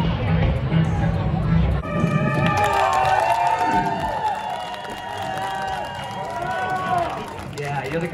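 An enthusiastic live audience cheers and whoops loudly and steadily, with a dense wash of voices and shouts filling the room for several seconds.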